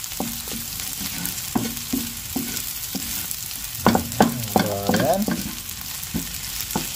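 Garlic and onions sautéing in a pan on a stove, a steady sizzle with sharp clacks of a utensil and a louder rattling burst near the end, while a person says a brief word.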